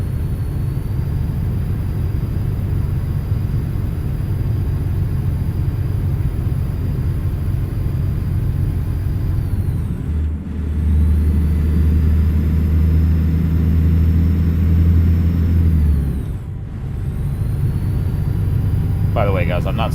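A heavy haul truck engine in American Truck Simulator rumbles continuously at a loud, steady drone, the deep low note swelling briefly midway as it revs before settling back, with someone talking over it throughout.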